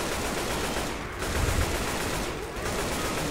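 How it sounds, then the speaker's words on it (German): Sustained gunfire in the zombie shooter Left 4 Dead 2, a dense unbroken roar of rapid shots that stays loud for the full stretch with only slight dips, and no talking over it. "Wieder schießen, was das Zeug hält"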